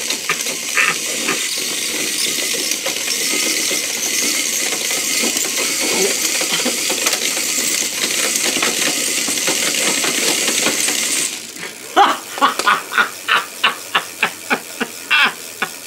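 A tiny homemade generator spun up and pressed against a wheel, a steady high whirring hiss that cuts off abruptly, followed by a run of sharp rattling clicks.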